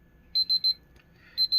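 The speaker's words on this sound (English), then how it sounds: "once it gets to 0, it's gonna keep beeping until you turn it off" An Unzano digital kitchen timer beeps in quick groups of three and two, sharp high electronic tones close up in a quiet room.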